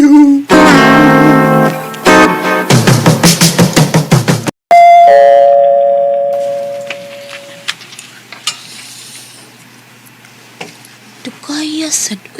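A doorbell at the gate rings loudly in repeated electronic chimes, followed by a clear ding-dong tone that fades out, with people talking around it.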